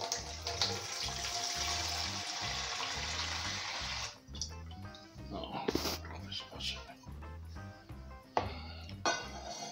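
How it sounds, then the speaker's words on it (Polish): Water pours steadily into the tank of a sprayer being assembled for spring spraying, a close rushing splash that stops midway, followed by handling noises and quiet talk. "Masz tą wodę, wlej tyle na razie."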